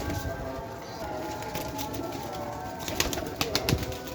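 A breeder's pigeon coos close by in a yard, soft throaty calls over a busy background with clicks and faint distant voices.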